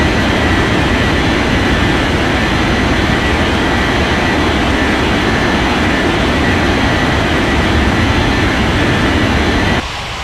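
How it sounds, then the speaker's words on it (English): An airliner takes off from the runway in an air traffic control game: a loud, continuous jet engine roar holds steady throughout, then drops abruptly in level just before the end. "China 78121, cleared for takeoff runway"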